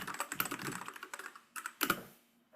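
Rapid clattering keystrokes on a mechanical keyboard, close and continuous, with a few sharper key hits near the end and a brief trailing pause.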